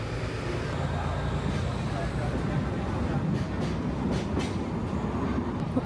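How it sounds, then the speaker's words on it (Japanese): The Sagano Scenic Railway trolley train in Kyoto pulls out of the station in autumn, pushed from behind, with a steady, loud rumble and clatter of the carriages and a few sharp metallic clanks near the end. "ガタガタンと後ろから押されて出発です。"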